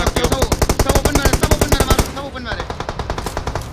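Rapid automatic gunfire in the battle-royale game BGMI on the Miramar map, a fast loud burst of evenly spaced shots for about two seconds, then quieter scattered sounds, with voices talking over it.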